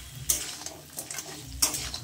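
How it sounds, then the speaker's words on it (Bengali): Crab pieces fry in oil with a steady, close sizzle, broken by a few sharp scrapes and clinks as a utensil stirs them in the pan. "এই ভাজা চলছে।"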